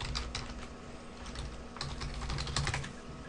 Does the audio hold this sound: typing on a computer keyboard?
yes